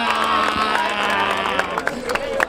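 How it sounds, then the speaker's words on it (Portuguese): A crowd at a Brazilian freestyle rap battle semifinal claps, cheers and whoops together, a loud dense roar with scattered sharp claps and shouts, voices mixed into the din. "Palmas pra essa batalha!"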